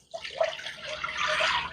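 Broth poured into a soup pot for loaded potato soup, a steady close liquid splash and trickle that swells and holds for under two seconds with no voices.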